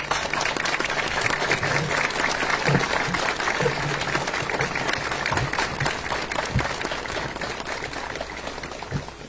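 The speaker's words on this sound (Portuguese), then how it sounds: "a gente pede uma forte salva de palmas a todas as vítimas" A crowd gathered outside a daycare to honor victims of an attack gives sustained, even applause outdoors, a dense patter of many hands continuing for the whole stretch with a few louder individual claps standing out.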